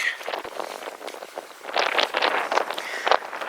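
Gusty desert wind on a hot day buffets the microphone, rising and falling in rough bursts with a rustling, blustery texture.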